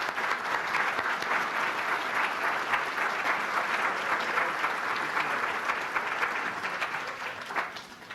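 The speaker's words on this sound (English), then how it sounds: "Let's give him a round of applause." A banquet-hall crowd gives sustained applause for an inductee at the 2000 Enfield Athletic Hall of Fame ceremony, a dense, even wash of clapping throughout that thins slightly toward the end.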